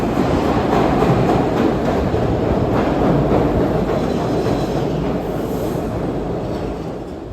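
A two-car Broad-Ridge Spur subway train in Philadelphia rolls into a tunnel platform, a loud steady rumble with clattering wheels that slowly eases as it arrives.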